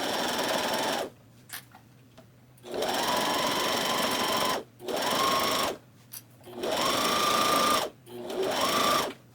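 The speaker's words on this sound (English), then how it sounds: "I'm just now sewing my first piece." A sewing machine runs in several bursts while stitching a quilted vest piece, each a steady close whir lasting one to two seconds, separated by short quiet pauses with faint handling clicks.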